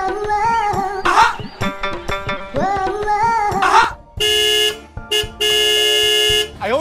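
Vehicle horns honking in road traffic where scooters wait at a signal: several short toots in quick succession, then two long, loud, sustained blasts close by.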